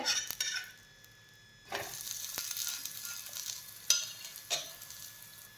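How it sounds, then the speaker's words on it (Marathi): Bottle gourd thalipeeth roasting in oil on a griddle, a crisp hissing sizzle broken by a brief pause, with a few sharp metallic clicks and scrapes of a spatula. "थालीपीठ छान खरपूस होईपर्यंत भाजून घ्यायचं आहे।"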